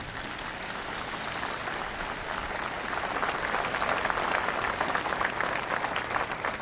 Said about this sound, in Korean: 여러분 함께 감사의 박수를 보내주시기 바랍니다.